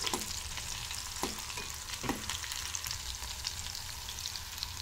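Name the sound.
green chillies frying in pan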